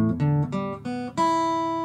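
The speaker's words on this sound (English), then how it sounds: "that's the sound of an in-tune guitar" In-tune acoustic guitar strings are plucked one after another in a quick sequence of about five notes, each ringing clearly and close, the last left to sustain, with no talking.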